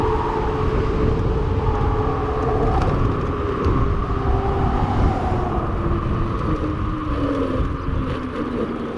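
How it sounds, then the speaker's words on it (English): A nasty-sounding car engine drones steadily and loudly throughout, a rough low rumble with tonal whine layered over constant road or wind noise, heard from close by without any speech. "Ooh, that car sounds nasty."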